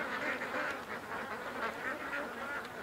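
Ducks at a lake quack repeatedly in a lively, overlapping chorus, fairly close and moderately loud, with no talk over them.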